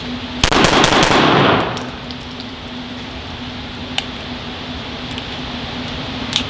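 A Full Conceal M3D folding Glock 19 pistol is fired at an outdoor range: a loud, close rapid burst of several shots echoing off, then a steady hum with a few faint clicks and distant pops.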